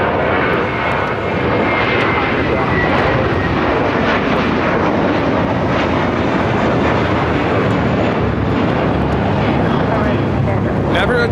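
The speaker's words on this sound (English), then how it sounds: "Taking off to JFK on this A321 with JetBlue Airways flight 324" A JetBlue Airbus A321 on takeoff from LAX toward JFK produces a loud, steady, full-bodied jet engine roar throughout.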